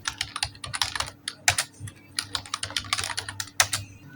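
Keys clatter on a computer keyboard while table column headings are typed, a close, uneven run of quick taps and clicks with brief pauses between bursts.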